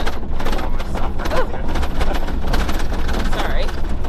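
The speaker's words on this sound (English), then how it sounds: "all of a sudden the road's corrugated." A 4WD rattles and judders over a suddenly corrugated dirt road, a dense, continuous loud vibration with rapid rough pulsing throughout, heard from inside the vehicle.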